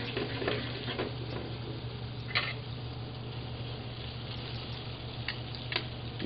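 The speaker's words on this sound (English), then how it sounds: "You put your apples in there, and your butter melt a little bit golden brown." Apples cooking in melted butter in a pan, a soft steady sizzle with a few light clicks and stirring taps, close and moderately quiet.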